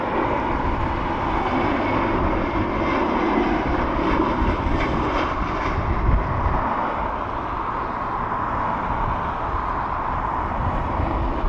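An airplane passes at Dublin Airport, a broad steady engine roar that holds loud and even throughout, with no talk.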